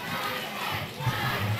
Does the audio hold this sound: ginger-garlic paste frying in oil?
no